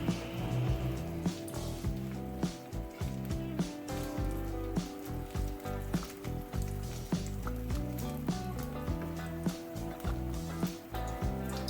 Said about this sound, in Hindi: जैसे ही हमारा ऑयल गर्म होता है तो हम दही भल्ले फ्राई करते हैं।